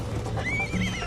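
A horse in the video game Red Dead Redemption lets out a short, high whinny that wavers up and down, heard over a steady low background hum.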